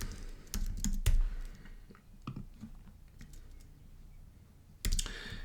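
Computer keyboard typing, irregular close clicks and a few sharper key taps scattered through a quiet room, with a brief burst of keystrokes near the end.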